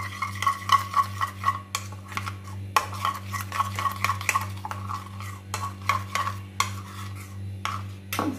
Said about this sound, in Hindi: इसमें कढ़ाई मसाला ऐड कर दूंगी और इसको मिक्स कर लेंगे